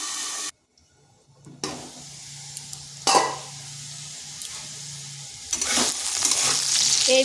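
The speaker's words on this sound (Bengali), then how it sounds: "আলুটাকে এইভাবে 3 থেকে 4 মিনিট হালকা একটু ভেজে নেব।" Potatoes frying lightly in a pan, a steady soft sizzle and hiss that drops out briefly near the start, then returns with a few sharp scraping stirs and grows brighter toward the end; no voices.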